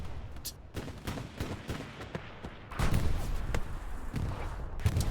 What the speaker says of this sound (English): Another explosion. Was that an American tank?